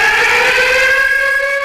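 A steady, sustained tornado warning siren drones loudly with no talking, a long unbroken warning wail.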